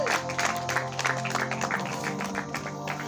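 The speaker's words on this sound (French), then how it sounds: "Acclame un peu Jésus" A church congregation claps continuously throughout, with sustained music in the background.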